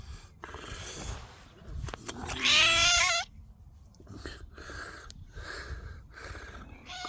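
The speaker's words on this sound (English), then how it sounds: "Oh, homeless cat you are." A homeless stray cat meows close by, one loud drawn-out meow in the middle with several shorter, softer meows after it, over low background noise.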